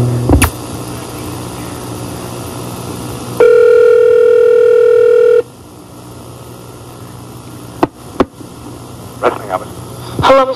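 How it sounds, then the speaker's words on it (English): An old boombox plays back a recorded phone call: a hissy tape bed, a steady loud dial tone for about two seconds, then clicks and faint muffled voices from the recording. "So check out this old boombox. It still works."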